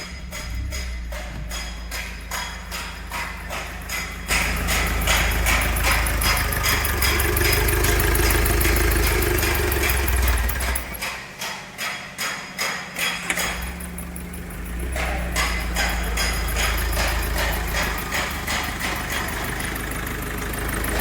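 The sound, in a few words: Mahindra Scorpio mHawk diesel engine idling, injector compressor leak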